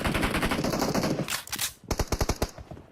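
Rapid automatic gunfire from a team deathmatch video game, sounding as dense sustained bursts that break off briefly and then return as a string of distinct quick shots.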